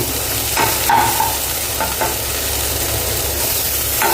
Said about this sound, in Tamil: இப்போது வெண்டைக்காவும் நல்லா வதங்கிடுச்சுங்க